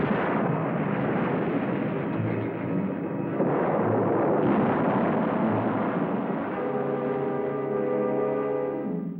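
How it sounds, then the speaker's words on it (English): Continuous heavy rumbling of distant naval gunfire and explosions bombarding positions on Okinawa, blending into a dense roar, with no breaks across the whole stretch. "Naval gunfire is damaging to the positions"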